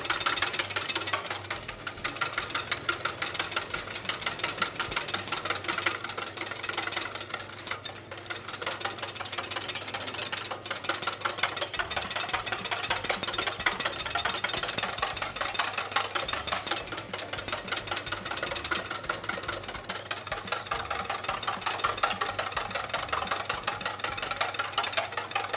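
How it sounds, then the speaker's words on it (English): A KitchenAid stand mixer runs steadily for a lemon tart, a constant mechanical whir and hum with a slight rhythmic knocking, close and unbroken throughout with no talking. "So even this one we can use with our KitchenAid machine."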